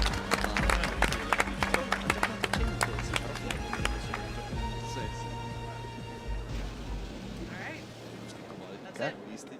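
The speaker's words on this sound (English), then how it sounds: "let's give another round of applause for their hard-fought battle." Scattered sharp claps come from a conference audience at a surgical resident quiz showdown, strongest at first and then thinning out under a steady murmur of crowd chatter and hum.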